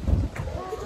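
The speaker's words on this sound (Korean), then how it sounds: "아 갑자기 바람 말하는 순간 바람이 불기 시작했어" Gusts of wind buffet an outdoor microphone on a school trip in Jeju, a low rumbling roar that swells and fades over a second, with light chatter faintly in the background.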